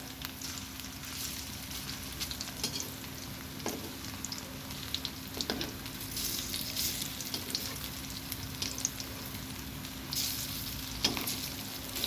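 Onion fritters made from ground masoor and pea lentils bubbling and crackling in hot oil, a steady close sizzle with occasional louder pops and clinks as they are turned.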